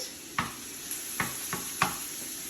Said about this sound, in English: Some nice green pepper to give it some heat. And so I'm going to just saute that for a second.